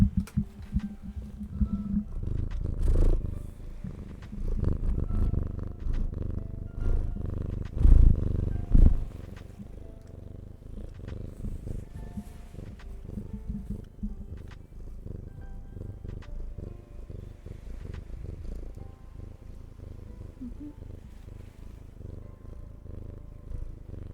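A cat purrs close and steady in a long, low continuous rumble, loud at first with a few louder bumps, then settling into a softer even purr with no talk.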